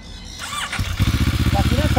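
A Moto Morini SCR 650 motorcycle engine starts up and settles into a loud, close, rapidly pulsing idle, with brief speech-like sounds over it.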